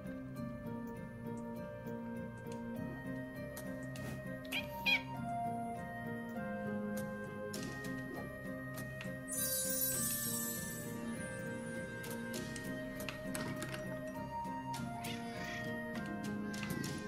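A game cat in Catmaze meows a few times over looping background music with ticking clock-like sounds, the calls short and moderately loud.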